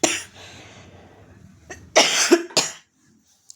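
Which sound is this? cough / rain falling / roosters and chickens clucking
cough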